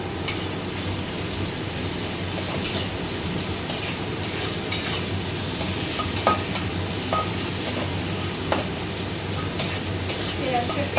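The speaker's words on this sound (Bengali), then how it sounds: "পেঁয়াজটা একটু লাল লাল করে ভাজাবো" Onion with a pinch of salt frying in oil until reddish, a steady close sizzle with frequent spatula scrapes and light clinks against the pan.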